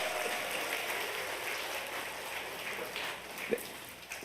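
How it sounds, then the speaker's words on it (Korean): Church congregation applauding during a Sunday worship service, a steady sustained patter of many hands clapping throughout, moderately loud and continuous with no talk over it. "박수 소리가 좀 작네요."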